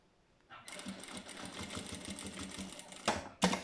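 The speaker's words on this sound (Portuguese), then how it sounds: "Eu estou a costurar napa, eu estou a utilizar o calcador Teflon" Sewing machine stitching nappa leather with a Teflon presser foot, a steady close rapid whirring run of stitches after a quiet start, with a couple of sharper bursts near the end.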